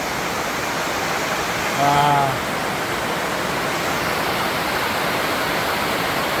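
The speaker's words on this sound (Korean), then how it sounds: "비가 한꺼번에 너무 많이 오니까 역류가 되는 거예요, 역류." Heavy rain floodwater rushes back up through a farm field drainage, a loud, close, continuous roar of water, with one brief exclaiming voice midway.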